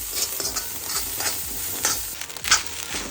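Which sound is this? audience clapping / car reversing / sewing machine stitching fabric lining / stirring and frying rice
stirring and frying rice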